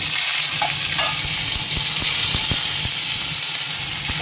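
Cumin seeds and ginger paste fry in a pan with a loud, continuous sizzle and hiss, broken by a few sharp clicks and spatters of stirring, close and unbroken by talk.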